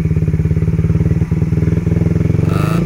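A Raider 150 FI motorcycle fitted with a Red Leo power pipe runs loud and close with a rapid, even exhaust pulse at low revs, briefly dipping before settling again.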